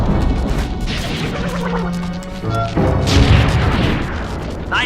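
A big explosion in the Sly 2: Band of Thieves video game, a heavy crashing blast with rumbling debris and mechanical clatter, loud and up close.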